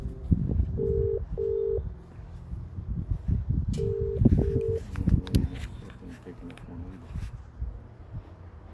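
Telephone keypad dialing tones, two pairs of short beeps, repeating with no answer, sounding close amid ongoing conversation and background talk.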